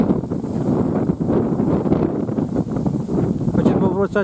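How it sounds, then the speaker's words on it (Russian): Loud, continuous wind buffeting the microphone with a steady rumbling roar, while someone talks throughout. "Но сегодня ветер, страшный ветер."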